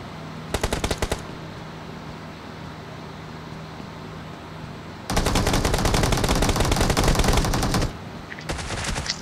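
Automatic gunfire in the BGMI battle game, a brief rattling burst followed by a longer sustained loud volley and then another short burst, with no talk over it.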